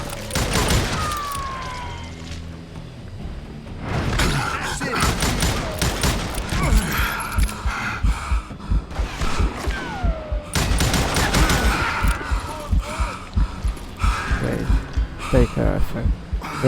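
Gunslinger-style gunfire from Call of Juarez: Gunslinger, with rapid volleys of loud close shots in repeated bursts and mechanical clacks between them as the player takes on a group of enemies, and a voice speaking at times under the shooting.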